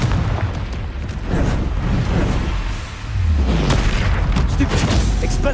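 A Confringo spell in Hogwarts Legacy sets off loud booming blasts and rumbling bursts in continuous battle noise, with a voice shouting over it.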